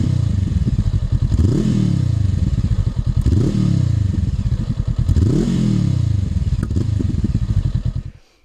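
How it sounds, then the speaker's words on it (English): Honda NX500 motorcycle fitted with a Black Widow full exhaust, revving in three repeated rising bursts and then dropping back to a steady loud idle, close up with no voices, cutting off at the end. "the next thing worth mentioning is this Black Widow full exhaust from UK"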